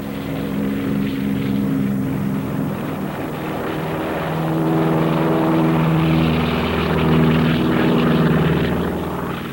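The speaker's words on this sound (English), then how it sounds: "so that our planes can land and take off by the hundreds" Propeller-driven military aircraft at a 1944 island airfield on Munda, landing and taking off; a continuous droning engine hum that swells louder midway, with overlapping propeller tones and no voices.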